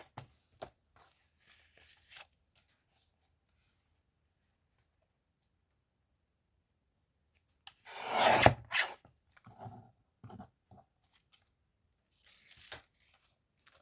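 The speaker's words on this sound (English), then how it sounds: "it might pay to use my guillotine so I get it straight" A paper guillotine slices through a sheet in a single close, rasping cut, followed by a few small scraping and handling sounds in an otherwise quiet room.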